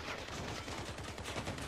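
Vehicle-mounted guns on a heavy battleship-style build in a Crossout PvP match fire in rapid, steady repeated bursts, a dense rattling stream of shots that is moderately loud and continuous, with no talk over it.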